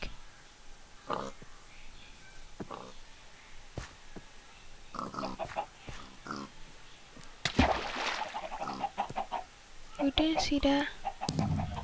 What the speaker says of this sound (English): I am a chicken.